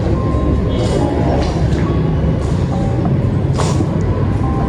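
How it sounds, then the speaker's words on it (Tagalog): Steady low rumble of traffic on the road below an abandoned, fire-gutted building, a constant broad drone with faint passing vehicle tones and occasional brief hissy bursts. "Hindi ko alam kung narinig yung mga ugong ng mga sasakyan sa baba."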